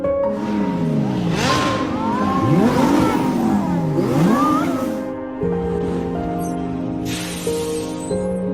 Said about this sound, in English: here is a Lamborghini parade